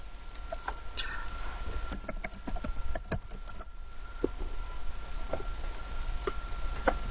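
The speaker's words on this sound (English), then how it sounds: "it enables you to use the computer's keyboard to be able to type on your phone" Clicks of a computer keyboard being typed on, scattered quick taps in short bursts with pauses, fairly faint against a low room hiss; no one speaks.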